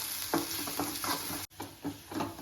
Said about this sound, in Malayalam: ചൂടായ വെളിച്ചെണ്ണയിലേക്ക് ചെറുതായി വരുന്ന ചുവന്നുള്ളി, കറിവേപ്പില ചേർക്കാം